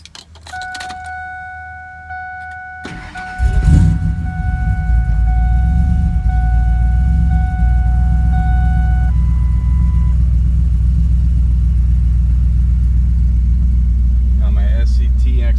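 Built supercharged Ford SVT Lightning pickup: keys jingle and a steady warning chime sounds, then the engine cranks and fires and settles into a loud, deep, steady idle.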